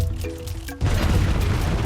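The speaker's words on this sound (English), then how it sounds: "Shoot the cannon." A cannon fires in Donkey Kong Country Returns and breaks the supporting beams of a platform. A lone, loud booming blast comes in suddenly and dense crashing rumble rolls on after it, cutting through the game music.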